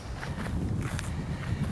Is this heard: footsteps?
yes